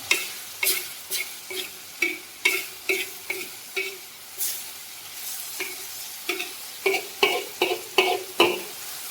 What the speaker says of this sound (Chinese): 这香菜一定要炒香啊！